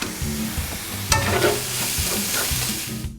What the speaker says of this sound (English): We're going to saute this for about a minute.